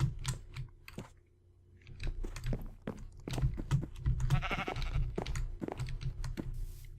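Sheep in Minecraft bleat several times in short calls amid rapid keyboard-like clicking, with a faint hum underneath.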